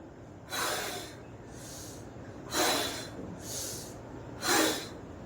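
Deep breaths drawn in and pushed out during a lower-belly exercise, heard as four loud, breathy bursts about a second each, close to the microphone, alternating strong and softer over low room hiss.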